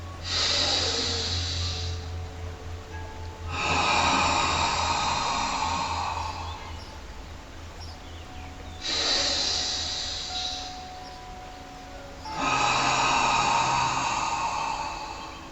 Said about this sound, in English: 3 cleansing breaths.